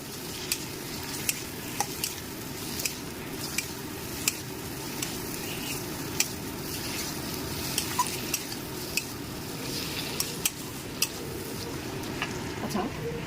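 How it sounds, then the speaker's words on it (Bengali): Vegetable stems fry in hot oil while being stirred, a soft continuous sizzle broken by frequent light clinks and scrapes of a utensil against the pan. "এই অবস্থায় আমি ডাটাগুলো দিয়ে দেবো।"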